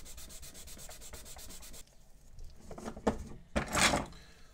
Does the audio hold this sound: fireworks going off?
no